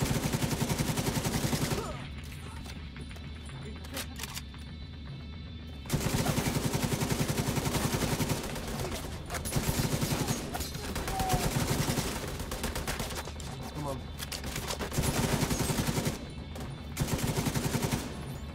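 Gunfire in The Division 2 video game comes in several loud bursts of rapid automatic fire, separated by short quieter gaps.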